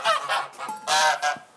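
Geese in their pen give a run of loud, close honks, about four or five harsh calls in quick irregular succession with no one talking.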